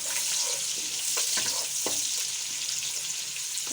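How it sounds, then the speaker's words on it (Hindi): Chopped onion frying in a cup of ghee, a continuous close sizzle with soft crackles and occasional stirring scrapes, heard alone. "इसको हल्का गोल्डन फ्राई कर लेंगे।"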